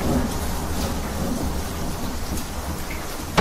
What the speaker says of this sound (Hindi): बाहर तूफानी रात थी।